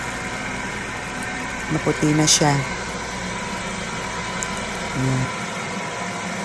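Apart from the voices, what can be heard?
rice milling machine running, hulling palay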